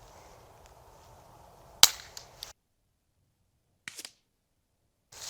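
A Ruger Mark IV pistol fitted with a suppressor fires Aguila Colibri rounds, heard from a distance as sharp, dry cracks: one louder shot followed by a few fainter snaps, with silent gaps between them and no talking.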